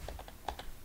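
Typing on a computer keyboard, about half a dozen quick, light key clicks in an uneven burst, close and fairly quiet, alone without any talking.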